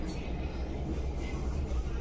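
Inside a Chennai Metro train after boarding, a steady low rumble of the moving carriage fills the space while a voice talks over it.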